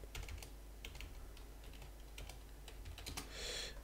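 Keys clatter on a computer keyboard in irregular bursts of taps, some quick runs and some single presses, close and clear over a low steady hum, ending in a brighter burst, with no voices.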